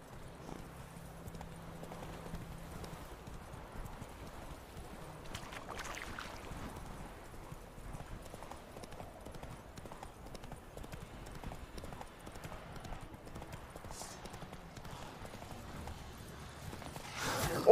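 Steady horse hoof clip-clop in The Witcher 3: Wild Hunt runs throughout at a moderate pace, with faint background wind and game ambience; the sound swells slightly at the very end.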